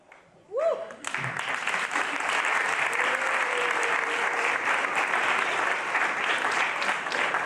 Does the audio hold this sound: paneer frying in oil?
no